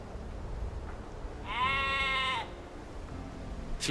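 A single drawn-out sheep bleat from Age of Empires II rises over quiet background ambience and lasts about a second, with no talking.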